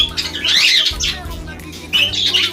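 A gray cockatiel in an aviary lets out loud, harsh squawks close by, two raspy bursts with a brief gap between them, over low background noise.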